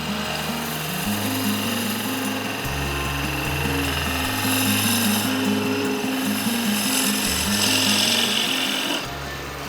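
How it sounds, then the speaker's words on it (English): A wooden sphere is sanded on a lathe, with a steady, loud abrasive rasp over the rising and falling hum of the spinning machine and no talk. "So, sanding."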